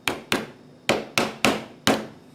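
A hammer taps nails into wood while a semi-auto rubber band gun is being built, giving six sharp, close strikes in an uneven rhythm with no talk.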